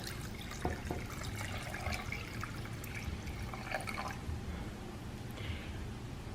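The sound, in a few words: warm water poured into pumpkin bagel dough ingredients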